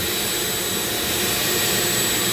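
A Dremel rotary tool grinds lightly while carving a rattlesnake, making a loud, steady, high whine with close broadband noise and no breaks.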